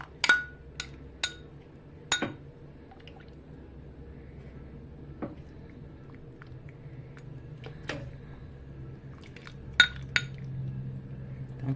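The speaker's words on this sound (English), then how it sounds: "So I'm gonna spoon it out for you, let you see how it looks." A metal spoon scraping and clinking against a pot and bowl while homemade filé gumbo with meat is served, scattered sharp clinks with soft wet stirring between them over a quiet kitchen background.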